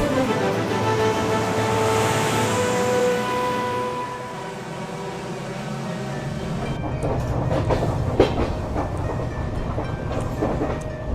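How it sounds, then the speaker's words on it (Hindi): A passenger train pulls out of New Haflong station in hill country and rolls along the rails with a steady rumble, then the wheel clatter grows busier and louder. No one speaks. "और अभी हमारी ट्रेन निकली न्यू हाफलोंग स्टेशन से"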